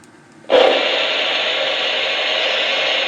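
A model locomotive starting up: after a short quiet lead-in, a sudden, loud, steady hissing rush kicks in and holds evenly to the end, with no voices.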